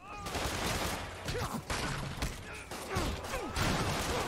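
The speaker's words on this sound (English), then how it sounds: "I'm getting hit by a lot of bullets." Gunfire rains on Spider-Man in the Spider-Man video game, with dense, rapid shots and impacts rattling continuously over a busy mix of action effects at moderate volume.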